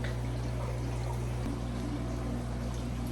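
Water trickles steadily and softly into a fish acclimation bag for newly arrived peacock bass, a continuous low pour with a faint constant hum beneath it and no talking.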